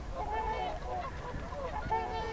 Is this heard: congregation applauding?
no